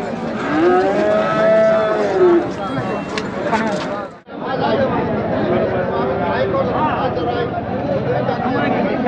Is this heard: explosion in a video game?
no